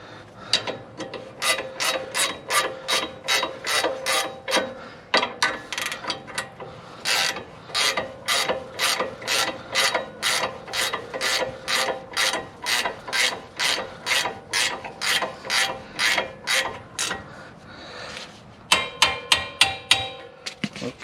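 Brake bolts on a Dodge Ram 2500 are tightened with a ratchet, producing a long run of rapid, evenly spaced ratcheting clicks up close, pausing briefly before a final quicker burst.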